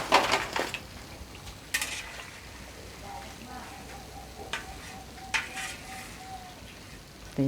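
A Thai rice-flour snack in hot oil, with faint frying sizzle under sharp scoops and clinks of a metal strainer at the start, middle and end, and a thin tone briefly in between.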